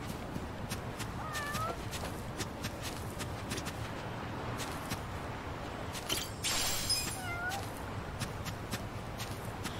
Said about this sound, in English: Oh, there's another cat!